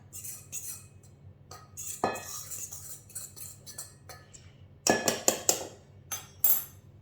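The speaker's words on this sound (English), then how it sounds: "So I'm going to mix them together." A utensil scraping and clinking against a bowl while self-raising flour, baking powder and mustard powder are mixed together, irregular taps and knocks with a few louder clinks, close and fairly quiet.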